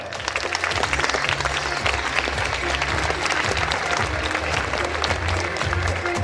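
Loud, sustained applause from an audience at a sports gala in Lubawa, a dense wash of clapping holding steady throughout with a low murmur of voices beneath.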